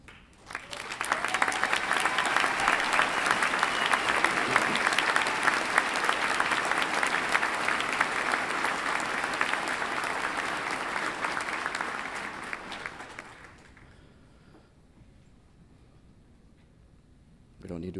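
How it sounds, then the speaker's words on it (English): A commencement audience applauds service members and veterans standing among them, steady dense clapping that holds for about twelve seconds before fading out into quiet room tone. "We don't need to applause again."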